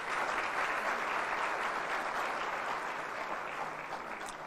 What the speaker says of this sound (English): We truly applaud him.